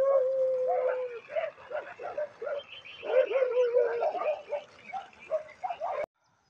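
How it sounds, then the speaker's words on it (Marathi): A Dhangari dog in rainy rural Konkan gives a string of excited yips, whines and short barks close by, ending abruptly. "तर हाच आपला धनगरी कुत्रा"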